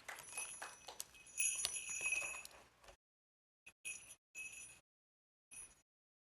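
A jingle bell shaken at a holiday poetry reading, bright metallic tinkling for a few seconds, then several short separate shakes with silence between them, fairly faint.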